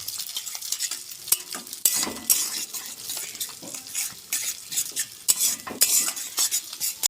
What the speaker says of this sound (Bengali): ডিমটাকে হালকা নেড়ে নেবো